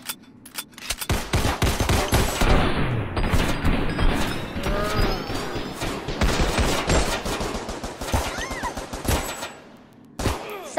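Rapid gunfire from a VR shooter game fills the scene: dense bursts of sharp shots and booms, machine-gun-like volleys crowding together loudly, with a short lull near the end before firing resumes.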